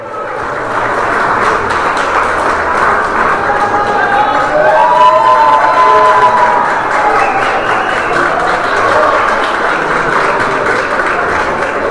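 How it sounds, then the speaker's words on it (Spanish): Steady applause from a sizable crowd fills the room, continuous and fairly loud, with some voices and cheers mixed in. "Fuerte el aplauso también para él"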